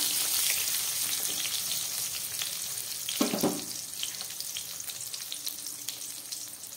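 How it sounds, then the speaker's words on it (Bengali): Eggplant pieces frying in hot oil already seasoned with dried chillies and mustard seeds give a continuous bright sizzle, with a brief louder burst partway through, close and steady with no talking. "এবার এই তেলের মধ্যে আমি বেগুনগুলোকে ভেজে দিচ্ছি।"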